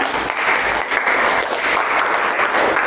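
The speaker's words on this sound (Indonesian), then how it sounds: "Kasih aplaus untuk kita semua ya." A class claps for its group presentations, a dense, steady burst of many hands clapping at once that fills the whole short stretch without pause.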